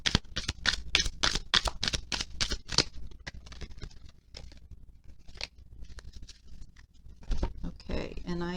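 Romance Angel oracle cards shuffle in a rapid run of crisp, close riffling bursts, followed by scattered softer card handling and a brief voice at the end.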